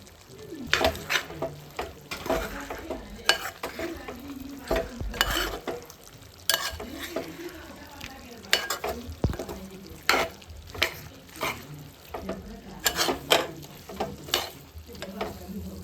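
Pork fry with coriander powder and meat masala being stirred in a pan, a steady sizzle under repeated scraping and stirring strokes, close and moderately loud, with no talking.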